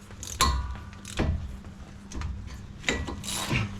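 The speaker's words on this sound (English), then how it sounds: "Now using the 3/8 and 14 millimeter, we're just going to loosen them up" Socket wrench with a 3/8 drive and 14 mm socket loosening front brake caliper bolts on a Dodge Dakota: close, irregular ratcheting clicks and metallic rubbing strokes repeating over a few seconds, with no talking.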